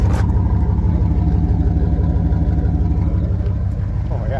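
A 1998 Dodge Ram 1500 pickup with a 5.2 V8 idles through a newly fitted exhaust, giving a loud, steady, throbbing rumble close by, with a brief voice at the start.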